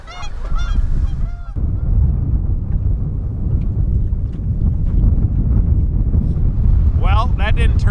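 Strong wind buffets a fishing boat on the Saginaw River, a constant loud roar over the microphone, with geese honking at the start and again near the end.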